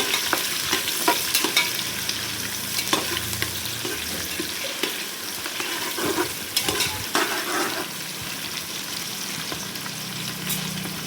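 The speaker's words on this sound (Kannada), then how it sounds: "ಇವಾಗ ಚೆನ್ನಾಗಿ ಮಿಕ್ಸ್ ಮಾಡಿಕೊಂಡು ಒಂದು 5 ನಿಮಿಷ ಎಣ್ಣೆಲಿ ಚೆನ್ನಾಗಿ ಮಗ್ಗಿಸ್ಕೋಬೇಕು" An onion mixture sautéing in oil in a pan gives a continuous close sizzle broken by irregular scrapes and clinks from the spoon stirring it. No one speaks.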